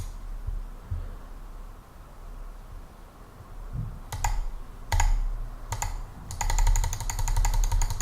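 Mouse clicks ring out over a steady low room hum while a moving box game runs in a Processing sketch: a few separate sharp clicks, then a fast, even burst of rapid clicking toward the end.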